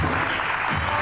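A studio audience claps in a brief, loud burst of dense applause lasting about a second.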